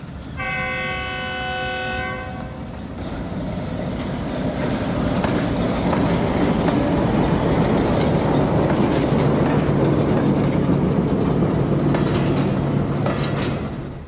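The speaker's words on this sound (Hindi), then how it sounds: "चलें जी अब चलते हैं गुड्स ट्रेन की तरफ" A long goods train rolls past on a railway track close by, with a horn blast at the start followed by a sustained heavy rumble and rattle of wagons that builds and holds steady.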